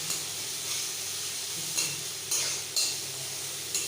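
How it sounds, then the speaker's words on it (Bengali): Grated ginger is stirred in a pan with asafoetida over low heat: a soft, steady sizzle with several light scraping strokes of a utensil, close and fairly quiet. "গ্রেট করা আদাটা দিয়ে এটাকে আমি ভালো করে নাড়াচাড়া করব।"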